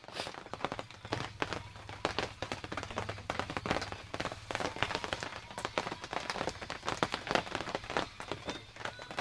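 Rain patters steadily on a surface nearby, a dense, irregular tapping that runs throughout under a low background hum, with no talking.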